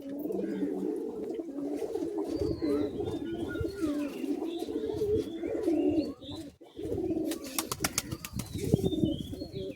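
Pigeons coo steadily in a loft in overlapping low, throaty calls, with occasional chirps and brief rustling or flapping nearby.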